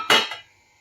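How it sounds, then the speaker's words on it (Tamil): One metallic clank as a pan is set down on a stove, ringing briefly before fading to quiet. "ஒரு பாத்திரம் வச்சுக்கலாம்"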